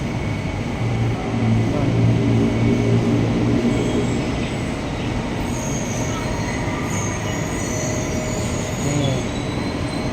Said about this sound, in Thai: มาแล้วรถไฟเนาว